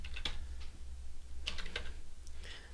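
Quiet keystrokes on a computer keyboard, a handful of scattered clicks in short bursts over a low steady room hum, no speech.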